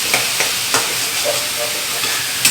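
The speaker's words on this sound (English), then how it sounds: "Fry it nicely." Paneer pakora stuffed with prawn sizzles steadily in hot oil, with a few sharp stirring clicks and scrapes punctuating the continuous close frying hiss.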